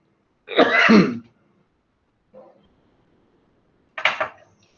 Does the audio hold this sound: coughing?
yes